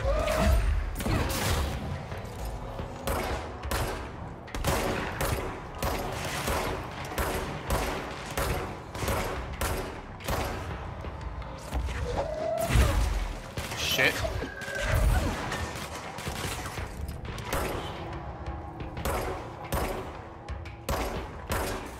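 Gunfire in the video game Control: rapid bursts of shots and crashing impacts run almost continuously, with occasional heavier booms, mixed with in-game effects and a player talking over it.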